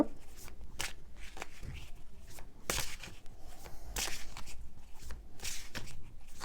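A deck of cards is cut and handled during a card reading. Close, sharp card snaps and slides repeat irregularly over soft handling rustle.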